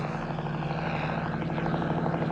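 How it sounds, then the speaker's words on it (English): An Army helicopter passes overhead in a film scene, its steady rotor chop and engine roar filling the whole stretch at an even loudness with no talk over it. "What's that Army helicopter doing here?"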